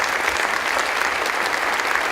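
Steady applause from a conference audience at a business summit for two speakers after their session, a dense, even patter of many hands filling the room for about two seconds with no break.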